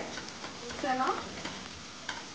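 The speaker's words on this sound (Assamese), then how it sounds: "অলপমান দেৰি ভাজিব লাগিব পিঁয়াজখিনি।" Onions frying with ginger garlic paste in a pan, a soft steady sizzle with a brief stir of the spatula, quiet and close.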